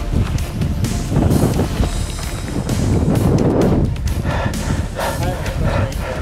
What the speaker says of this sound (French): Le vent vient de se lever, mon gars.